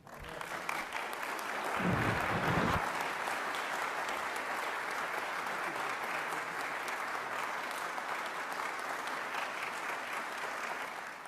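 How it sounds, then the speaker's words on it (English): Sustained audience applause fills a commencement hall for Arthur Holder, a liaison officer for accreditation, at the 2016 GTU graduation ceremony, steady and dense for about ten seconds with a brief louder burst near the start. "Arthur Holder, I think he deserves applause."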